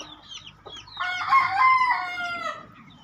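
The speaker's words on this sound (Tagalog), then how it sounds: "pulungan ng manok" Several chickens cluck in a busy flock while a rooster crows loudly in the middle, with birds chirping faintly in the background.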